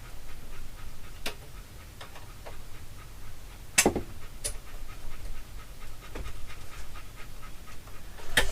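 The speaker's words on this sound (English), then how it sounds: "He's actually a Phoenix dog." Dog panting steadily and fairly close, a continuous rhythmic breathy sound with scattered clicks and a few sharper knocks throughout.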